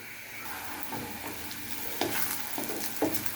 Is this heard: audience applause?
no